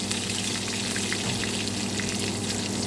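Food deep-frying in oil in a home kitchen, a steady dense sizzle with fine crackling pops running throughout at an even, close level.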